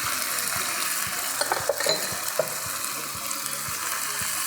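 Ginger-garlic paste sizzling in hot oil in a pan as it is stirred, a steady close frying hiss broken by a few sharp clinks of a utensil against the pan.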